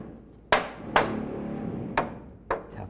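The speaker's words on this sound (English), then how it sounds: "Might have to use a hammer," Four sharp, close hammer taps, irregularly spaced, seat the timing chain cover plate on a 2002-2009 Chevy Trailblazer engine against a quiet shop background.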